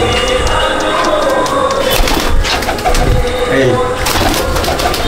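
Pigeons, including a breeding pair hatched from another pair's young, coo in a loft, with steady low murmuring coos under a busy background and someone speaking briefly.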